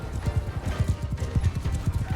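Horse hooves pound in a steady galloping rhythm during a Mount & Blade battle, heavy low thuds repeating fast and close with faint battle noise beneath.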